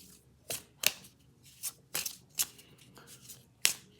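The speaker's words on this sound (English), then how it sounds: "and then give all these a shuffle" Close, crisp riffles of playing cards being shuffled, a series of sharp papery bursts at irregular intervals, with quiet pauses between.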